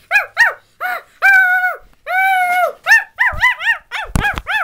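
A small dog barks and yaps repeatedly at close range, with a few drawn-out whiny barks and a growl near the end, no talking.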